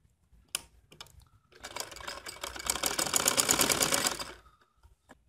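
A sewing machine runs a stitching pass along the edge of a linen suit, starting with a few light clicks, then whirring in a rapid, steady mechanical rattle for about three seconds before stopping.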